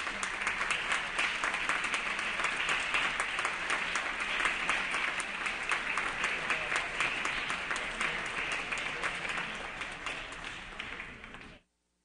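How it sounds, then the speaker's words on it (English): Sustained audience applause fills an assembly floor session, dense steady clapping from many hands for about eleven seconds before stopping abruptly. "Round of applause."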